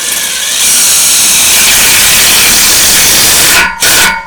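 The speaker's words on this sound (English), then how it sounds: "we use self-drilling screws to put these together" Self-drilling screws are driven into a stand by a loud, close power driver in a sustained whine, broken by one brief pause near the end.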